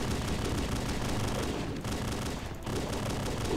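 Pistol gunfire in Halo: Combat Evolved, a dense run of rapid shots and impacts mixed with game noise, loud and continuous with brief dips, no voices.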